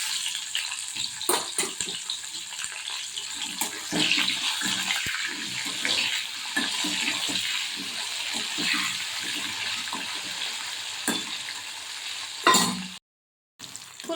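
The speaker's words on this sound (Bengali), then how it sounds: "তেলটা গরম হয়ে গেছে, এবার বাকি ফুলকপিগুলো এর মধ্যে দিয়ে দেবো।" Cauliflower pieces drop into hot oil and fry with a continuous watery hiss and crackle, broken by scattered louder pops and spatters near the end.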